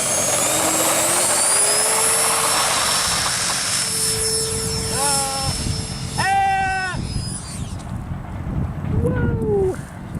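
An LX 70mm F-22 RC ducted-fan jet model flies overhead, its high whine rising and falling as it passes, with wind buffeting the microphone and faint voices in the background.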